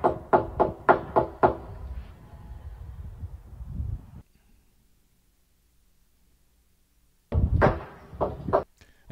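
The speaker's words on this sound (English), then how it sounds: "This is a video of her just knocking at the door repeatedly" Repeated knocking on the door of a house, a rapid run of sharp, loud raps followed by a low rumbling stretch, a few seconds of silence, then another close burst of knocks.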